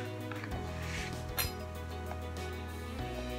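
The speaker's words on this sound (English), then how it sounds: "So you're going to open your butter," A butter container is opened on a kitchen counter beside bread, a knife and a pan, giving a few light clinks and a soft plastic pop over steady background hum, with no talking.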